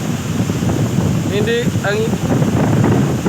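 Strong wind rushes and buffets steadily among coconut palms, roaring against the microphone while a person briefly speaks underneath it.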